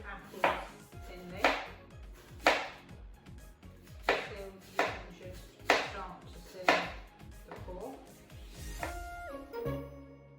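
Knife chopping through apples on a board in a home kitchen, a run of about eight evenly spaced crisp cuts with thuds, followed by a light clatter at the end.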